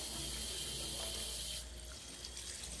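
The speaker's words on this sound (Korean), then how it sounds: "그래서 물을 이렇게 푹 주고" Water pours steadily into a container to soak a tillandsia air plant, a continuous close splashing flow that thins slightly partway through.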